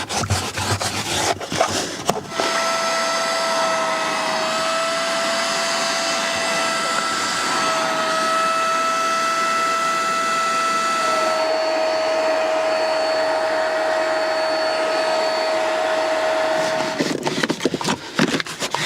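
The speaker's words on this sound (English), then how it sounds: "So yeah, a very good wet vac needed in here indeed." A wet vac roars steadily for about fifteen seconds while cleaning the carpets of a cheap Cat S write-off BMW, with a high whine and a rough rushing band, starting and stopping with brief handling knocks.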